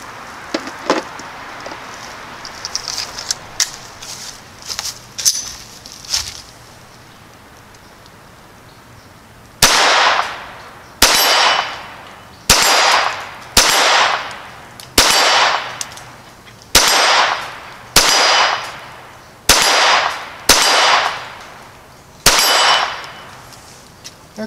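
A Browning Buck Mark Medallion pistol firing at a long-range steel target, with ten sharp evenly spaced shots each followed by a ringing metallic clang, after some earlier scattered clicks and handling noise.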